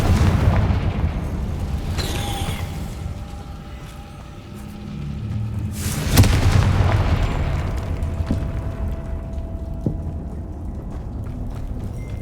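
A Confringo fire-blast spell in Hogwarts Legacy goes off as a booming burst, followed by a rumbling explosion about two seconds later and a second big blast near the six-second mark, with game ambience and a lingering tone underneath.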